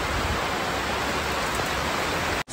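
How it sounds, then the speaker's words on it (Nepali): Heavy rain pouring down, a dense, loud, unbroken wash of noise that cuts off abruptly at the very end. "हेर्नु न हौ पानीहरू क्या डरलाग्दो परिरहेछ"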